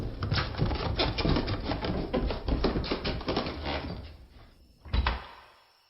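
A door in a horror audiobook produces rapid rattling, clattering knocks that fade, then a single sharp slam near the end and silence afterwards.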